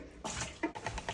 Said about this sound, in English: I throw off the water, guys.